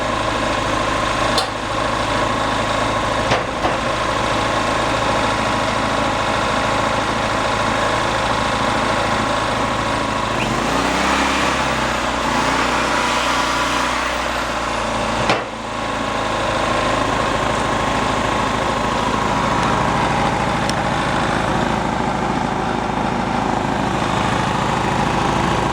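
A yard-sale Ryobi portable generator runs, its small engine holding a continuous close buzzing drone with a brief shift in tone partway through.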